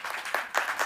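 Audience clapping at a Hindi comedy show, a brief patter of hands with a few distinct louder claps in under a second.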